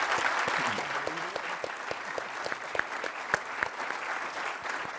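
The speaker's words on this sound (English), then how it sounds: "Round of applause for the panel" A room audience applauds a policy panel with sustained, moderately loud clapping and a few sharper individual claps standing out, while faint murmurs sit underneath.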